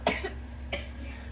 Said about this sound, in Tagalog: Ba't ka inuubo?